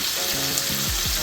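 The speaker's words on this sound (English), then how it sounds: "we're just going to combine those ingredients and sizzle it out" Spices and chili frying in a pan for a Madras curry, a loud continuous sizzle and crackle up close with faint stirring scrapes, no voices.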